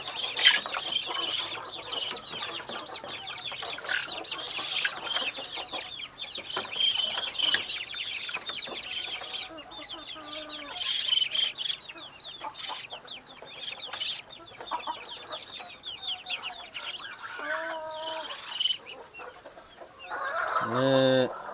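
Kampung chickens in a galvanized battery cage cluck steadily, a crowded chorus of overlapping hen calls at moderate distance, with scattered rattles of the metal caging and a few louder squawks near the end.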